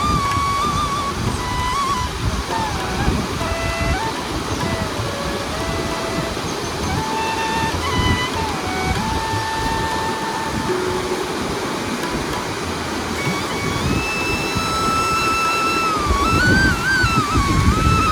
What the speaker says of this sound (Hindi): ये देखिए खूबसूरत झरना जो बह रहा है। इस फॉल का नाम है बिरथी फॉल।